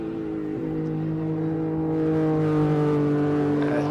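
A classic car engine at the Simola Hillclimb revs hard and climbs steadily in pitch, loud and close, with a rising harmonic whine as it accelerates away.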